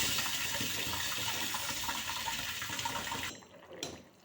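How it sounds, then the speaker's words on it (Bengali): Water pours into a pan of green tomato and potato curry in a home kitchen, a continuous splashing gush that stops abruptly near the end, followed by a brief faint clatter. "নাড়াচাড়া করে নিয়ে অল্প জল দিয়ে দেব"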